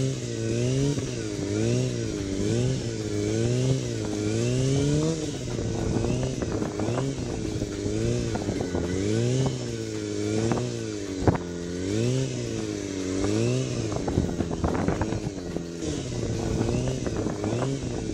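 A motorcycle engine revs hard and continuously while the rider holds a wheelie, the pitch surging up and down in repeated waves under steady, loud running with occasional clatter.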